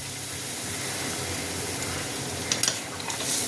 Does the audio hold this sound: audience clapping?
no